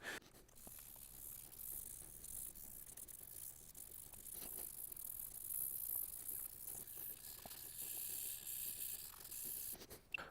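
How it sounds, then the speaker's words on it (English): Pitted aluminum being hand-sanded with 2000 grit sandpaper, a faint rhythmic scratchy rasp repeating in quick strokes, close and without talk. "So I'm going to hit it with some 2000."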